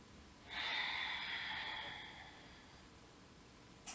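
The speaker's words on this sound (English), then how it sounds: "deep breaths in and out" A single deep breath during a yoga session for low back pain, a soft breathy rush that swells quickly, holds, then fades slowly, heard alone with no talking.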